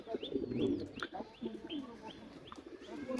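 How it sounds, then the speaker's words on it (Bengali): Pigeons coo repeatedly in soft, low, throaty phrases, with a few faint higher chirps in the background. "তো এই হচ্ছে কবুতর"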